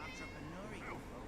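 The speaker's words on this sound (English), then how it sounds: "That's a cat I can pet." A cat in Guild Wars 2 gives a short, rising meow, close and clear, over steady background game ambience.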